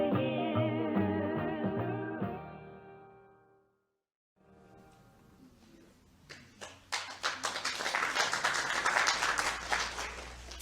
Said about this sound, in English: You can keep that applause going